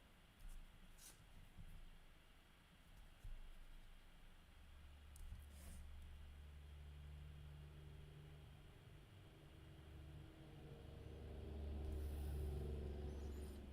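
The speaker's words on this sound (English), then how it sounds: "somebody's got a loud truck" Loud truck passing outside, a low rumble building from faint to strongest near the end with a deep engine drone, heard indoors with a few soft nearby clicks and no speech.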